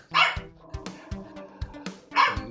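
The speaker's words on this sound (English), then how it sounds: "My dog is barking." A dog barks close by, two sharp loud barks at either end with softer yips and thumps between them, no talk.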